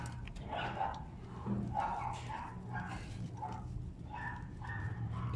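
A dog barks and yips repeatedly in short bursts, fairly close and moderately loud, inside a space where a motorcycle oil change is under way.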